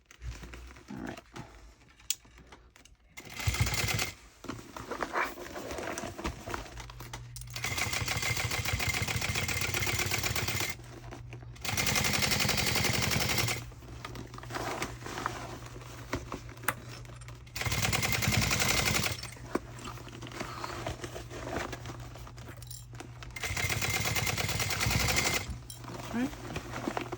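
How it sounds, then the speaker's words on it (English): A sewing machine top-stitches around the side panel of a tote bag in repeated bursts of rapid mechanical clatter, each lasting a few seconds, with quiet pauses between them where a person speaks. "we're going to top stitch now. I'm going to start on the side panel."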